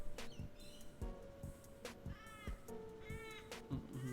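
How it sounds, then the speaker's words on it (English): Loud bird calls from the video game Another Crab's Treasure: repeated chirps and warbling cries, with thumps and clicks from the game around them. "Very loud birds."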